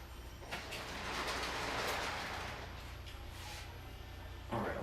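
A model train locomotive's Lux sound decoder plays a steady, loud, hissing rumble like a running train, swelling in the middle and ending with a brief burst, with no talk.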